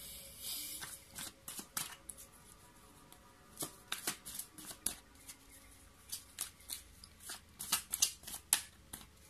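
Tarot cards are shuffled by hand in quick, uneven bursts of riffling and slapping, close and fairly quiet, with short pauses between runs.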